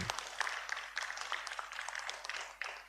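Applause from an audience at a school class award ceremony, a brief stretch of scattered, fairly faint clapping with no voices over it.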